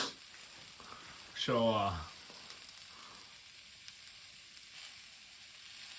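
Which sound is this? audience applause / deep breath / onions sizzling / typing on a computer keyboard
onions sizzling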